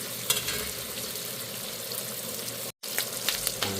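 Browned sausage pushed to one side of a frying pan with a little grease left in, a steady close sizzle with soft scraping of the pan throughout and one very brief break near the end.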